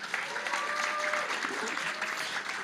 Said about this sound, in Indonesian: Kasih tepuk tangan dong buat Tuhan.